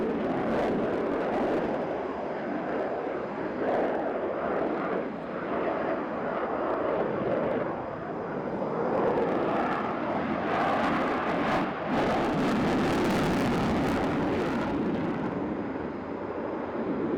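A Ukrainian Sukhoi Su-27 Flanker jet fighter takes off at the RIAT air display, a sustained, loud, broadband engine roar with crackling surges that swell and fade throughout, no voices heard.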